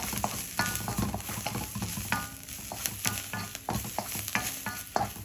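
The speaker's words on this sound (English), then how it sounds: "I'll add some more in a minute to get that flavour in, and keep stirring." A stir fry with coriander sizzles steadily in a pan, with close, repeated scraping and clattering as a utensil stirs the food.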